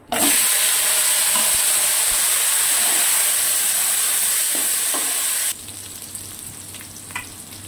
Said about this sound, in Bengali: আলুগুলো মোটামুটি ভাজা হয়ে গেছে